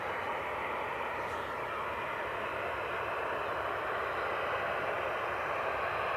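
An airplane near Cleveland Hopkins airport roars steadily as a broad, continuous engine rumble, loud and unbroken, with no voices.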